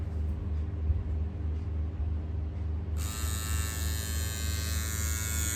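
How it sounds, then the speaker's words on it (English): A Nova Sensi-Trim women's electric trimmer buzzes steadily up close, a low motor hum joined partway through by a sharper, brighter cutting buzz as it touches skin, with no speech. "make sure you move the trimmer in the direction opposite to your hair growth"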